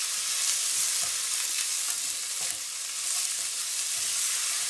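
Ginger, spring onion and capsicum sautéed on a high flame, giving a steady, loud broadband sizzle with soft stirring scrapes throughout and no talking.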